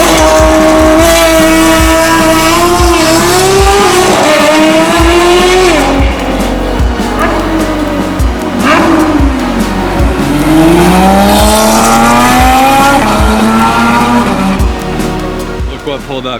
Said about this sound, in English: Look what pulled up, guys. M4 CSL.